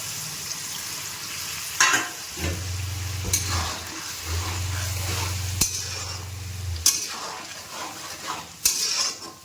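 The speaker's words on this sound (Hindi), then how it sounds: "मसाले को भून लेंगे अच्छे से।" Turmeric, salt and red chili powder roast in a pan with potatoes and peas for a home-cooked sabzi, sizzling steadily while a metal spoon stirs and clanks against the pan in irregular bursts, with a low humming tone running beneath.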